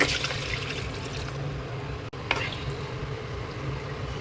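Water pours steadily into a pan of onion, garlic, soy sauce and oyster sauce while cooking pancit canton, a continuous splashing flow with a brief interruption midway.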